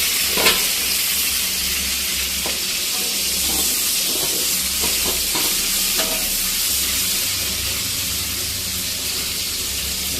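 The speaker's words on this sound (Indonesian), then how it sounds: "Ini digoreng dulu ya, ini semua digoreng dulu." Kaffir lime leaves, lemongrass and galangal frying in oil for an Acehnese tongkol rendang with petai, a continuous loud sizzle with scattered stirring scrapes and clicks throughout.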